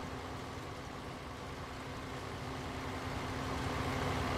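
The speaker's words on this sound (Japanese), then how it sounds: "働いてる感出すんだったらこのぐらいのエンジン音の聞いてるのがいい" A harvester's engine drones steadily in Farming Simulator 19, a quiet, even low hum with a faint tonal whine that holds constant throughout and rises slightly toward the end.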